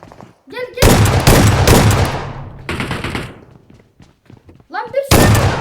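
Pump shotgun blasts in a military-style shooter, several heavy booming shots in quick succession, then a pause and a final blast, with rushed voices talking in between.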